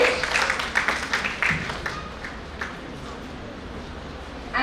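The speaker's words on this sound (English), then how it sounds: "A round of applause." Applause at an international conference greets the plenary session chair: a short burst of scattered hand clapping, strongest at the start, thinning and fading within a few seconds, with faint background murmur.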